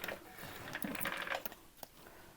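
A sewing machine runs slowly as it top stitches a handbag, the hand wheel held to slow it, giving quiet irregular mechanical whirring and ticking with a few sharper clicks.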